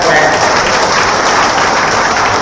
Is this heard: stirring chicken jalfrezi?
no